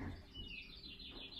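Bird chirps from a video played for cats, faint and steady over a low background hum, with soft tweets running through the short stretch.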